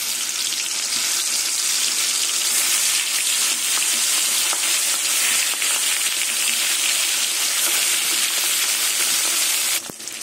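Pieces of silver carp fry in hot mustard oil in a kadai, giving a loud, steady, continuous sizzle that holds throughout and breaks off briefly near the end.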